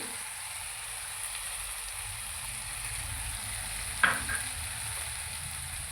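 Spiced vegetables with turmeric, coriander powder and chilli powder sizzle steadily in a frying pan for a Veg Amritsari dish, with a soft stir and a brief scrape near the end, no talking.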